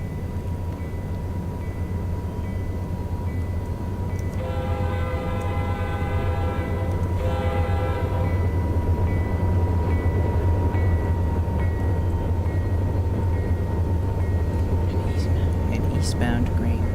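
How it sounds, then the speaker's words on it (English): A long, empty eastbound freight grain train rumbles steadily past close by, with a loud horn chord blaring for a few seconds midway over the continuous low roar of wheels. "An eastbound grain, empty grain train."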